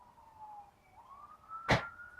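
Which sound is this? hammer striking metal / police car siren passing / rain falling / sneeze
police car siren passing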